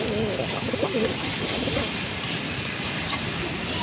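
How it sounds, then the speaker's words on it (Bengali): Native Bengali pigeons, a pair among others, coo close by in repeated soft throaty phrases over a constant noisy background hum. "জোড়া বাঞ্জা কবুতর আছে"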